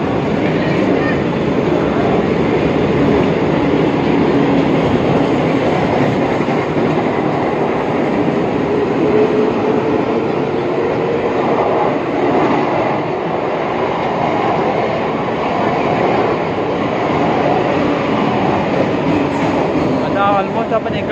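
An AC train coach rolls along the rails with a continuous loud rumble and rushing noise, steady throughout with faint rhythmic clatter underneath.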